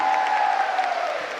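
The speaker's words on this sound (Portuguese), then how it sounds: "Uma salva de palmas a Nossa" A crowd claps for Our Lady at a Catholic Mass held at a camp, the dense, even applause filling the space and tapering slightly toward the end over a sustained tonal hum.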